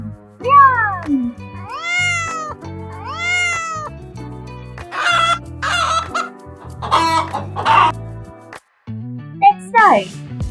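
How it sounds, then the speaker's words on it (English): A domestic cat meows in a children's animal-sound guessing game, with rooster crowing and hen clucking nearby and a voice speaking over parts of it. "Cat says, meow, meow."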